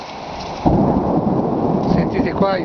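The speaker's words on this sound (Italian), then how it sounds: "sentite qua i tuoni" Deep rumbling thunder rolls over steady rain and hail, with a louder crack and swell partway through and drops pattering on roof tiles and plastic tables nearby.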